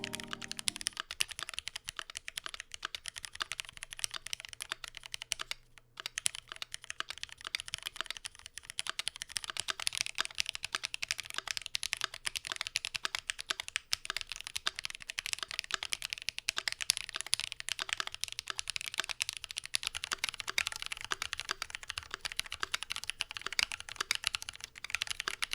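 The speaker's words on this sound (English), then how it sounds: "let's go through a couple of typing tests" A Keychron Q2 mechanical keyboard is typed on in a rapid, continuous stream of crisp clacky keystrokes, close and steady, with brief pauses and no talking.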